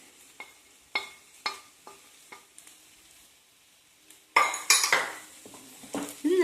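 Potatoes being mixed with turmeric powder in a frying pan: a regular series of sharp spoon clinks against the pan, then louder, busier scraping and stirring over sizzling oil, close up with no talking.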